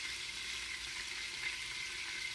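Raw pot-roast meat browns in an Instant Pot, giving a steady, even sizzling hiss that holds at moderate level throughout, with no voices.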